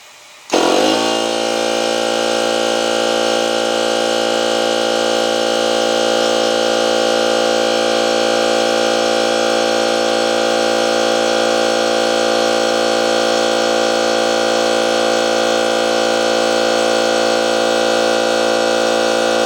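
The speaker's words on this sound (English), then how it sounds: "Just filling that hose, Evan, was enough to kick the compressor on." A cordless DeWalt or Milwaukee air compressor kicks on abruptly and runs on loud and steady, a constant motor drone with a bright tonal hum that holds unchanged for nearly twenty seconds.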